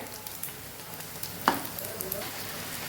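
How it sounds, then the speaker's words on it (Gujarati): Leftover-rice snack deep frying in hot oil until crispy: a soft, steady sizzle throughout, with one brief clatter midway and no talking. "બીજી વારે પણ એવી રીતે સરસ આપણે ક્રિસ્પી કરી અને તળી લેવાનો છે"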